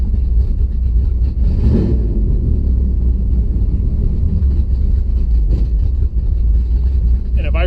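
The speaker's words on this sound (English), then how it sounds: "Idle is super choppy. It's never been this choppy of an idle." A car engine fitted with Holley Sniper EFI idling roughly, a loud close low rumble with an uneven choppy pulse and a slight swell early on, with a voice speaking over it.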